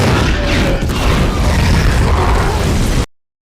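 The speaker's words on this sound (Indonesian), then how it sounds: "Kembali ke Caesar, ledakan bom membuat pertarungan terhenti." Massive bomb blast bringing down a tower in a film scene, a loud sustained roaring boom with rumbling debris that fills the clip and cuts off abruptly after about three seconds.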